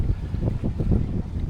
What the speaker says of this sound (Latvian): Baigais vējš pūš.